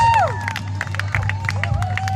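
Spectators at a live jousting event cheer a rider as he charges down the lane toward the ring, a steady crowd roar with scattered shouts and whistles layered over a low rumble throughout.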